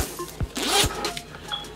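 A camera bag's zipper is pulled open in a quick, close rasping run, followed by soft rustling and handling of the fabric as the bag is opened.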